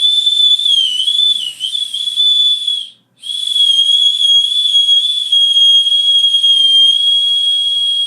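A small emergency whistle from a survival axe kit gives a loud, steady shrill tone lasting about three seconds, then after a brief gap sounds again, sustained for roughly five more seconds, close up.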